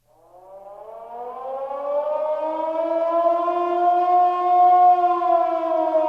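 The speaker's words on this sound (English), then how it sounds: "the sounds you hear are the warning sirens going off at the Democratic National Committee" A civil defense warning siren winds up slowly and holds a loud, rising tonal wail, swelling steadily over several seconds with no other sound around it.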